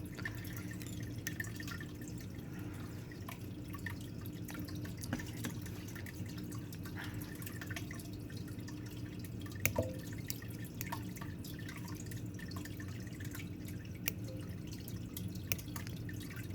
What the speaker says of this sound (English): if you guys can hear that water, that's my fish tank. It's I have a waterfall inside of it for aeration too.